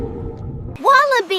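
A manatee gives one clear squeaky chirp that rises and then falls, followed by a brief second note. A low murky rumble comes before it.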